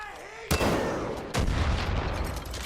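A rocket launcher fires twice in Far Cry 5 outpost combat, each shot a sudden close boom with a rushing, rumbling tail about a second apart.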